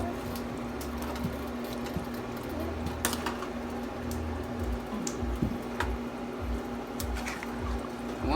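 Vegan spaghetti with vegan cheese being stirred and mixed in a pot or bowl, giving close wet squishing and sticky smacking sounds in uneven bursts, with no talking.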